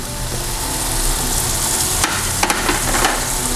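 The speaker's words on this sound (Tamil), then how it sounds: "இந்த பச்சை வாசனை போகிற வரைக்கும் வதக்கிடலாம்" Chilli powder and ground spices sauté in a hot pan for a chow chow masala gravy, giving a loud, steady sizzle throughout with a few scraping stirs near the end.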